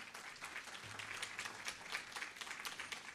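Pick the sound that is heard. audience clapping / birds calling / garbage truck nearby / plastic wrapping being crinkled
audience clapping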